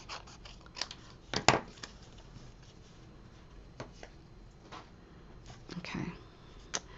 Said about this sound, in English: So when I'm fussy cutting, I cut around the big, get the big stuff out of the way.